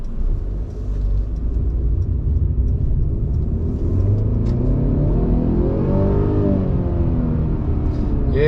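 A 2020 Mercedes-Benz C300 in normal mode pulling onto a main road, heard from inside the cabin. A steady low engine and road rumble swells as the car accelerates, with the pitch climbing smoothly toward the end.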